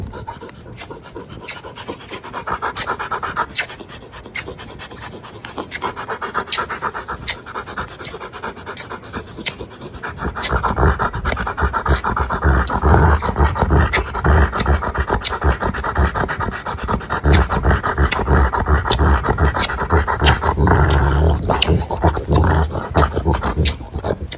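A dog pants in quick, rapid breaths close up, joined by scratchy rubbing and brushing noises while it is kissed and handled; the panting and rubbing grow louder and denser in the second half, with no clear speech.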